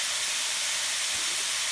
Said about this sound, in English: we're going to get this ground beef frying up and brown it.